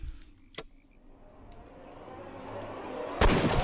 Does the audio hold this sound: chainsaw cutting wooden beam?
no